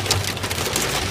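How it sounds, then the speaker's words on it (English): Heavy rain and hail drum steadily on a car windshield, a dense, continuous close-up patter with no gaps and no voices. "So it's raining really hard and it's hailing."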